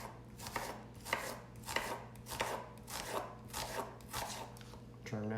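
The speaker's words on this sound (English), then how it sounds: "I cut it in half from top to bottom." A knife slicing a halved vegetable thinly on a cutting board, giving a steady run of about nine crisp, evenly spaced chops at close range over a low background hum.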